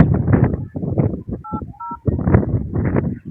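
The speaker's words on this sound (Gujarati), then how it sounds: "હજી એકવાર અનલોક નંબર માં ફોન કરીએ" A telephone number is dialed on a keypad, giving a short run of beeping tones that sit between bursts of nearby talking.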